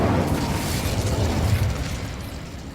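A fiery burst from the Incendio fire spell in Hogwarts Legacy, a loud roaring whoosh that holds steady and then slowly fades over a few seconds, with no voices.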